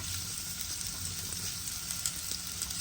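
Onions sautéing in a pan for a Sri Lankan-style fish curry made without coconut milk, giving a steady, even sizzle with faint stirring scrapes, close and unaccompanied by talk.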